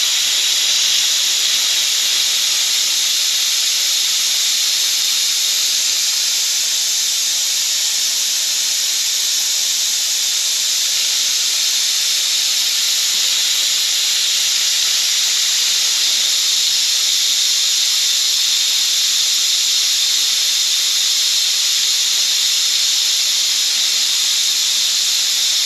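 Steam vents from a pot of spicy Calabrian sausage stew, a loud, steady, high hiss that keeps going without a break and with no talking over it.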